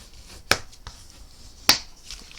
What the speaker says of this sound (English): fold it right on the score line